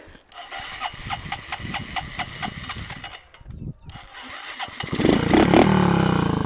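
A BMX bicycle fitted with a motorcycle engine putters along in a rapid, steady rhythm, briefly dips, then picks up and revs harder toward the end, close and fairly loud.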